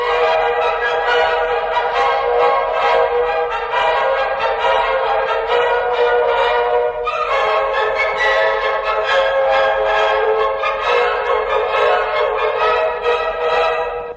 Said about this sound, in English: If we cut out only the low frequencies, all those below 375 cycles per second, the music sounds like this.